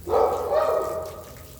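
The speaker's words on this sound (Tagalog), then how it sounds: "Nagagalit yung aso sa loob." A single drawn-out German Shepherd vocalization, a whining bark-howl close by, tapering off softly.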